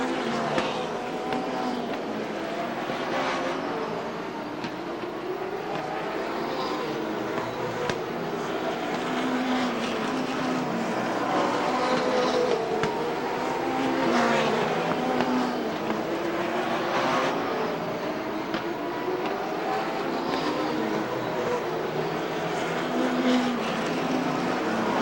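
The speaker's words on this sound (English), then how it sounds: "As they work their way through traffic, Schuler closing the gap and got up near 2 s" Race cars roar steadily around Rockford Speedway during the 1992 ARTGO 300, a dense, continuous engine drone with swelling passes and no break across the whole stretch.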